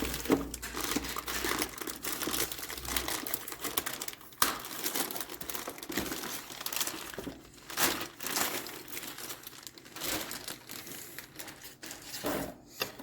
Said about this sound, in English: Take the plastic off.